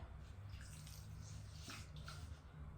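Water is poured into sugar in a cooking pan to make sugar syrup for badusha, a steady, continuous splashing gush lasting the whole moment at moderate, close level.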